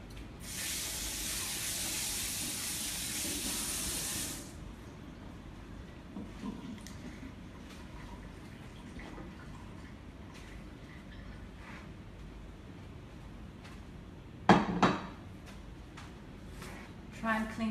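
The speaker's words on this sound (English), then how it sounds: "I will now quickly rinse my hands." A broad rush of running water from a kitchen tap pours for about four seconds while hands are rinsed during sauerkraut making, then stops, leaving quiet room noise and a few clinks.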